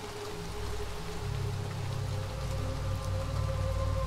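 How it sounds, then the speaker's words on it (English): Steady rain pours down in the Little Nightmares 2 video game, a continuous dense patter with a low rumbling undertone and no voices. "we gotta get out of the rain."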